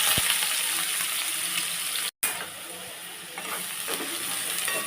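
Chopped onions hit hot oil for a prawn thokku, giving a steady loud sizzle and crackle with faint stirring scrapes, broken by one brief silent gap midway; no talking.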